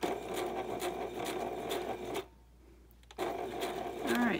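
A sewing machine stitches patchwork fabric pieces in a rapid, steady mechanical whir up close, pausing briefly in the middle before starting again at a similar pace.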